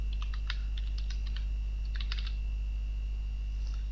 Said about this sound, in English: I can go here and type